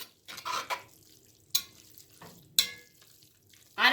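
Beef chunks browning in a pot for vegetable beef soup, with soft sizzling broken by a few sharp utensil scrapes and clanks against the pot, close and fairly quiet.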